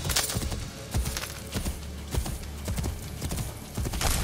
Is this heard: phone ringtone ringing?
no